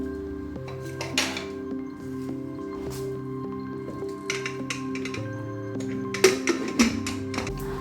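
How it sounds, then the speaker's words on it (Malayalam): Washed chickpeas going into a pressure cooker for Kerala-style kadala varattiyathu, heard as scattered clinks and taps of metal and glass with a soft tonal hum running underneath, no talk. "കഴുകി വൃത്തിയാക്കിയ കടല ഒരു കുക്കറിൽ ഇട്ട് കൊടുക്കുക"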